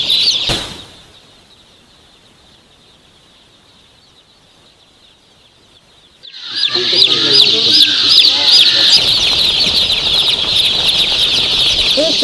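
Backyard poultry chicks and chickens cluck and cheep in a busy, close chorus that starts abruptly after a near-silent stretch, with wing flapping and continuous chirping filling the rest.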